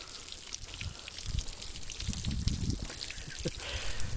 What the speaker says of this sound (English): It's gushing water like crazy because I sliced the sides open.